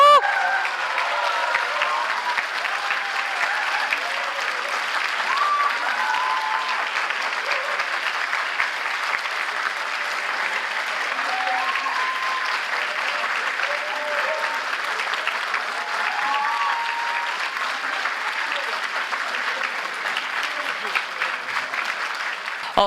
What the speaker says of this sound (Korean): 여러분 큰 박수로 예, 맞아주시기 바랍니다